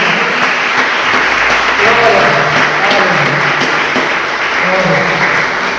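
Steady crowd applause at a church service, loud and close, continuing for several seconds with voices mixed in underneath.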